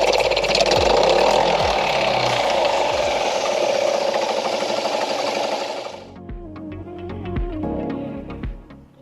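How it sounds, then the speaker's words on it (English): A small pull-start outboard boat engine runs steadily and loudly after its flooded cylinder was cleared, carb flushed and spark plug cleaned, then cuts off abruptly, leaving quieter clattering and knocking noises. "the engine fired up on its first pull"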